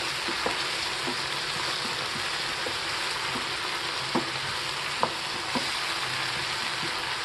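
Sauce ingredients with half a spoon of black pepper powder and a spoon of sugar are stirred and mixed in a hot pan for a soya Manchurian, giving a steady sizzle with faint scraping taps at irregular intervals.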